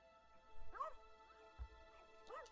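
A dog in the game Rainswept whimpers and yips in short rising whines, two clear bursts separated by a pause, close and moderately loud with a low thump between them.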